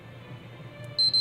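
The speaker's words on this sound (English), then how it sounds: "Holding the power button until we hear 2 beeps this time." Two sharp, high electronic beeps from a PS3 Slim console power button sound in quick succession after a quiet stretch of low hum.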